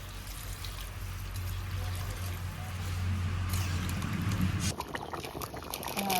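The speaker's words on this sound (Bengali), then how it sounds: "আর এই যে দিয়ে দেবো গরম জল।" Hot water being poured into a pot of chicken curry, a steady splashing pour over a low background hum that cuts off abruptly near the end, quiet and without speech.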